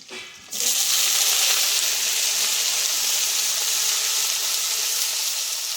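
Cut eggplant sizzling as it hits hot oil in a pan with garlic and potato greens, a sudden loud steady hiss that starts after a short quiet moment and holds alone, with no talking.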